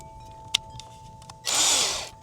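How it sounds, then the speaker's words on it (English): A few faint clicks, then a power drill spinning a wall hook chucked in its bit whirs loudly for about a second, close by, before winding down. "I got my drill out, and I put just kind of a wall hook in the drill itself"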